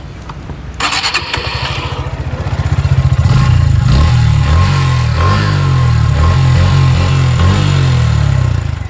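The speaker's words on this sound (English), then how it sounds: "let me just show you what the exhaust note of the Gixxer and the Xtreme is" A Suzuki Gixxer 155 motorcycle engine starts with a clattering crank, then settles into a loud, throbbing exhaust note with a few blips of revving, close by.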